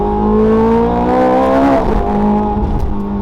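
A race-tuned Ferrari 430 engine revs close by, its harmonic whine climbing steadily and then dropping off sharply before settling into a steadier drone, with no talk over it.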